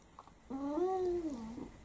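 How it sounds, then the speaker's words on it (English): A cat lets out a single drawn-out meow lasting about a second, rising and then falling in pitch, heard fairly close in a quiet room. "There's a cat there."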